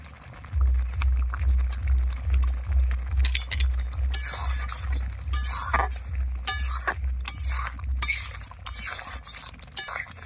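A spoon stirs lentil dal with sugar in a pan, giving scraping and clinking metal sounds in irregular bursts over a low steady hum, close and moderately quiet.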